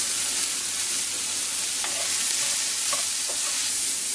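Mushrooms go into a pan already frying onions and minced garlic, giving a steady bright sizzle with a few light clatters and scrapes from stirring, close by and without speech.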